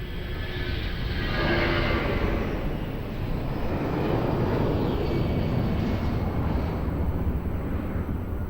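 An airliner landing on runway 02 at Lisbon Airport, a broad roaring rumble of engines and rushing air that swells as the plane passes and then settles into a steady distant roar.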